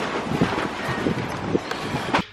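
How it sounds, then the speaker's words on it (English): Strong wind gusts of 40 to 60 mph blow outdoors in Ventura County during a nearby wildfire, a steady broadband roar buffeting the microphone with several sharper gust bursts and no speech. "There's 40 to 60 mile per hour gusts of wind right now."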